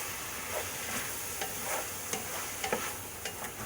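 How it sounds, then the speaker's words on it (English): Beef and vegetable soup being stirred in a pot, a steady bubbling, simmering wash broken by a few sharp utensil scrapes and knocks against the pot, close and alone. "let me give a little stir up"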